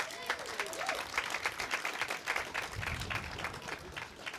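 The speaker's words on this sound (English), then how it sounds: "But can we give them a great round of applause?" An audience at a Juneteenth celebration hosted by a long-established church in Vienna applauds continuously, a lively mix of many hands clapping at moderate volume with a faint voice or whistle briefly audible early on.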